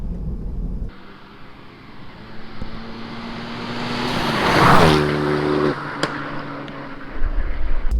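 A Renault Megane Clubsport with an RS tuning remap, about 320 horsepower, accelerates hard in third gear, its engine note rising steadily to a loud peak and then easing off, heard from inside the car.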